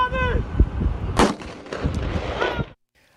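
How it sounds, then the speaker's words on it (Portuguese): A soldier firing a gun several times into the air near the Farol da Barra lighthouse, a sharp loud crack standing out amid noisy outdoor bustle and shouting voices, with further rough bursts before the sound cuts to silence. "começou a gritar e a atirar várias vezes para o alto."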